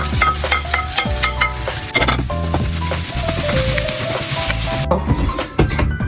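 Egg fried rice with spring onion being stir-fried in a pan, a dense continuous sizzle with steady scraping and clinking strokes throughout, loud and close, with no talk.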